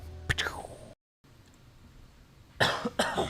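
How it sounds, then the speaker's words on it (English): A cough bursts out near the start, with another harsh cough or throat-clearing burst near the end, during a live motorcycle talk show. "Let's cue that cough."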